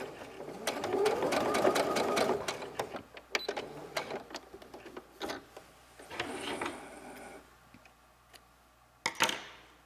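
A sewing machine stitches a tote bag seam and backstitches in quick rapid bursts of ticking clatter with short pauses between runs, close and moderately loud.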